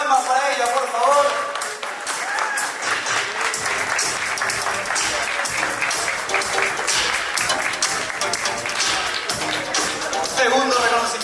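An audience at an awards ceremony applauds a recipient, a continuous dense wash of clapping that fills the hall throughout, with some cheering voices and a hint of music mixed in.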